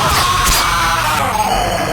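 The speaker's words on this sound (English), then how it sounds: "This one really sounds like your guy's just screaming." A harsh, sustained scream from an animatronic jump scare in a FNAF-inspired horror video game, loud and noisy throughout without a break.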